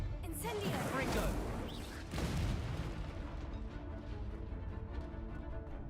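A caster fires the Incendio fire spell in Hogwarts Legacy, producing loud whooshing bursts and deep booms, two strong blasts early on that fade into a lingering rumble, with a voice present.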